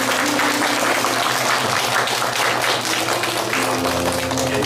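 Congregation applauding in a church during a Bible study course graduation ceremony, steady dense clapping lasting throughout over a low hum.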